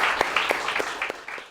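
A small group at a youth football goalkeeper academy campus applauds briefly, with a quick patter of close, moderately loud claps.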